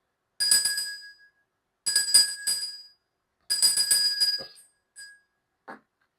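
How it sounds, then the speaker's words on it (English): A bell rung three times in a row, each clear metallic strike ringing out bright and sustained before fading, with short gaps between, followed by a couple of faint small knocks. "I'm going to ring this bell 3 times"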